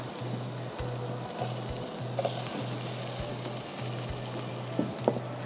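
Chopped onions fry in hot oil in a pan, giving off a steady, close sizzle with occasional stirring clicks and a faint tonal hum in the background.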